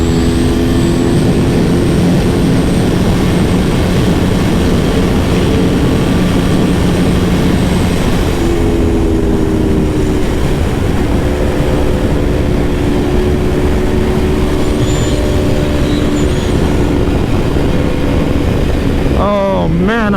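A motorcycle being ridden, its engine droning steadily up close with shifting pitch and heavy wind rush, loud throughout.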